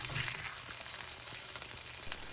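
Beef shank searing in about two tablespoons of hot cooking oil, a loud, steady crackling sizzle with no break throughout.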